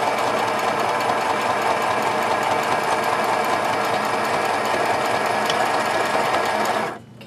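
A sewing machine stitching a basic seam runs steadily at its modest top speed, a close continuous whirring drone that stops abruptly near the end.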